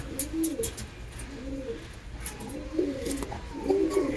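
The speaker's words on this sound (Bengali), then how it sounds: "পায়রা হাতে থাকতেই চাচ্ছে না বন্ধুরা" Malawi and Teddy pigeons coo close by in soft, repeated throaty phrases, about four rolling calls spaced roughly a second apart, with faint background noise and no talking.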